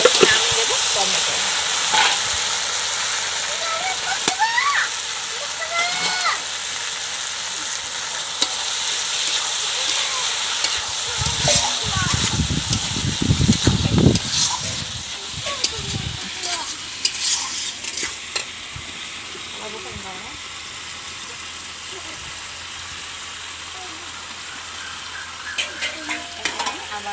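Tomatoes frying in a pan with masala and potatoes for a rohu fish curry, loud continuous sizzle with stirring scrapes and a brief burst of spattering midway.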